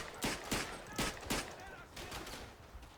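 Rifle volleys crack out in a Verdun video game battle, several sharp bursts in quick, uneven succession over a dense, noisy front-line din, the shots close and loud.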